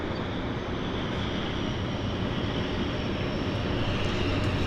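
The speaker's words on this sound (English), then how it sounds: "we've got another aircraft on approach" A fixed-wing aircraft on approach to Vancouver's downtown harbour airport, a steady broadband engine roar heard from a distance, faint and continuous without any talk.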